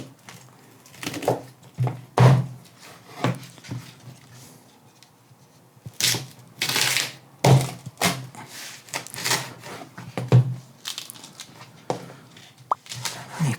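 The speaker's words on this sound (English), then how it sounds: "take a nice sharp knife, trim that bit there, and now we're going to divide our pineapple into quarters" A sharp knife chops through a pineapple top, dividing it into quarters, with several heavy, dull thunks against a board spaced irregularly amid quieter handling noises, close up and without speech.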